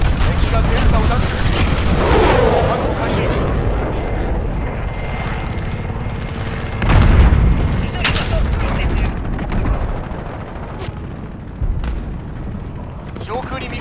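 Cruise missile strike explosions in the Modern Warfare video game, heavy booms and rumbling blasts over a constant battle din of gunfire and aircraft noise, with a burst of loud impacts midway and voices talking throughout.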